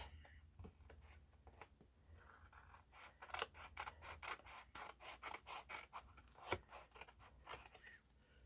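Scissors snip through paper scraps in a quick, irregular run of crisp cuts, close and fairly quiet, with faint rustling of paper between strokes.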